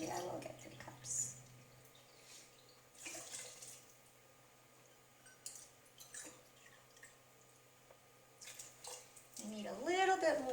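Tap water running into a cooking pot of veggie chili, faint splashing and dripping in short bursts with quiet kitchen background.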